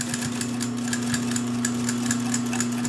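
A Pfaff 134 industrial sewing machine stitches with a steady motor hum and a fast, even ticking of the needle, heard up close at moderate level with no talking.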